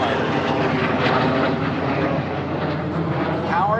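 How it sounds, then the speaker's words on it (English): An F-35 fighter jet with a Pratt & Whitney F135 engine passing overhead at an air show, a loud, steady roaring rumble that holds strong for several seconds, with a voice talking under it. "powered by a Pratt & Whitney F-135 jet engine that is the most powerful jet engine on the face of the Earth right now"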